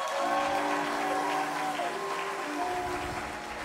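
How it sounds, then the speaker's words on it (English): A church congregation applauds its clergy, a sustained even patter of many hands clapping, with steady musical tones droning underneath throughout. "shall we give our clergy a round of applause?"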